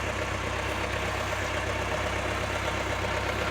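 A tractor engine idles with a steady low rumble, close by and unchanging, with no voices.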